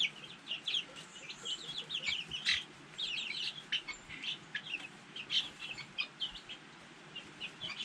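Young chickens in a backyard coop give repeated soft clucks and chirpy peeps, overlapping in irregular bursts close by against a quiet outdoor background, with no talk.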